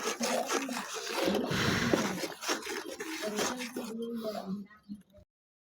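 Cumin powder being stirred into food in a cooking pot, a steady scraping and rubbing of a utensil against the pan with sizzling texture, close and continuous for about five seconds before stopping.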